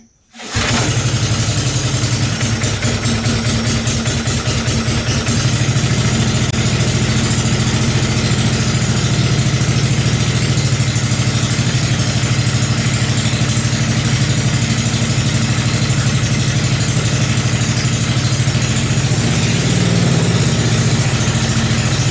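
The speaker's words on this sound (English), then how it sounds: "let's start this thing up and see how it sounds." A mini bike's small engine cranks and catches, then idles loudly and steadily close by with an even rapid putter for the rest of the stretch, no speech.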